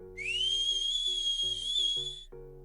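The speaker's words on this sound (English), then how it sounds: "Then the dog whistle." A dog whistle blown in one sustained shrill tone of about two seconds, loud and close, over faint low tones in the background.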